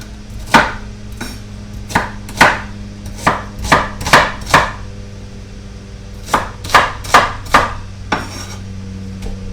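An onion being chopped with a knife on a wooden chopping block, about fifteen sharp, close knocks in irregular clusters over a quiet background, no talking.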